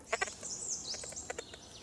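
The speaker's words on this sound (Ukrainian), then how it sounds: "Пташки співають." Birds call in a Carpathian forest with short chirps and trills, some of them repeated. They are fairly faint and sound at a moderate distance against quiet woodland.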